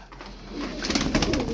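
Tumbler pigeons coo softly in a loft, a short burst of low throaty calls building slightly in loudness, close by with no talk.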